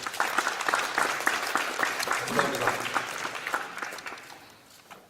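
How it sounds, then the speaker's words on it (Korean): An audience in the National Assembly rotunda applauds at a panel meeting, steady full clapping that carries on for several seconds and fades toward the end, while a voice speaks briefly over it. "여러분들 큰 박수로 격려 부탁드리겠습니다"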